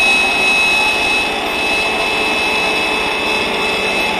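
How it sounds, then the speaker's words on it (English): A household vacuum cleaner sucks air through its hose while pressed on a pillow, a constant loud roaring hum with a thin high whine, unbroken from start to finish. "see what the vacuum cleaner is doing?"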